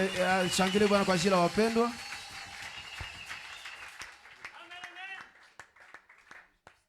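A church congregation applauding, brisk clapping that starts beneath a voice speaking in French, then fades into scattered claps.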